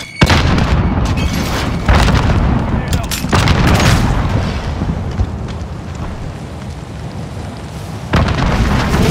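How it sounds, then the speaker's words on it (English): A grenade blast and gunfire in a first-person shooter video game, heavy booming bursts and rapid shots layered into a loud, continuous roar, with a few sharp onsets standing out. "Throwing out a grenade."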